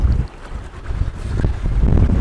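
Strong wind buffets an electric sailboat in a storm, a loud continuous roar with gusting low rumble and water rushing against the hull, swelling toward the end with no voices.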